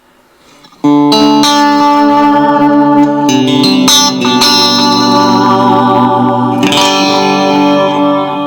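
Electric guitar played through a digital delay effect unit, a sustained chord ringing with echoing repeats and wide reverb, loud and close with fresh strums restating the sound throughout.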